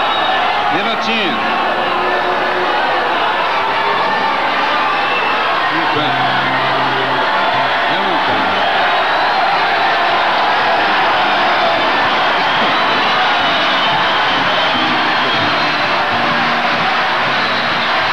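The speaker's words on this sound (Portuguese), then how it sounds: "Vocês estão vaiando a vocês mesmos" A live festival audience at a 1967 Brazilian popular music festival final boos loudly, a dense sustained roar of jeering and whistling that fills the hall for the whole stretch, steady and unbroken.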